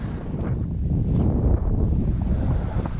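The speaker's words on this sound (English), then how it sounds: "it's a bit breezy and a little chilly, and my tent is holding on for dear life" Strong wind gusts buffet a microphone at a chilly beach campsite, a loud continuous low roar with rushing surges throughout, no voices present.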